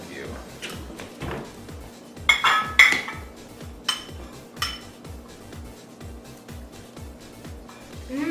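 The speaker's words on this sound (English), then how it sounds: "now we add it to the rice and give it a quick stir" Sausage and rice stirred in a cooking pot, with a utensil scraping and clinking against the pot in a steady series of close knocks and scrapes, some louder clinks near the middle.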